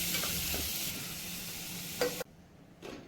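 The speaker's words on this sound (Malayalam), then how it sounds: "ചുമന്നുള്ളിയും അതുപോലെ തന്നെ സവോളയും കൂടെ ഇട്ട് കൊടുത്തിട്ട് നല്ലപോലെ ഒന്ന് വഴറ്റിയെടുക്കണം" Shallots and onions sauté in a pan with a steady, soft sizzle and a few scrapes of stirring, then the sound drops away abruptly near the end.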